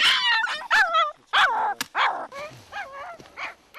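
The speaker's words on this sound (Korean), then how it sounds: "겁에 질린 새끼는 세상에 태어나 가장 세차게 울부짖습니다" A frightened newborn feral dog puppy in the mountains cries loudly, a close string of shrill yelps and wavering whines in quick bursts with short gaps between them.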